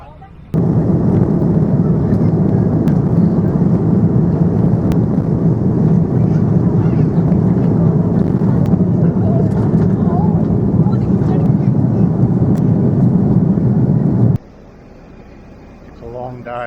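Steady broadband cabin roar aboard an aircraft on a flight leg from Bali, a loud constant drone holding for about fourteen seconds before dropping abruptly to a quieter hum.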